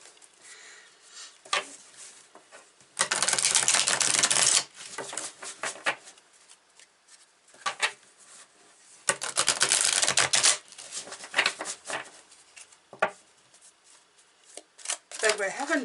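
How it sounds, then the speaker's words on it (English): Tarot cards, a Sacred Destiny deck, shuffled in a few loud bursts of crisp riffling and patter, separated by quieter handling and soft talk. "I'm going to take some cards here"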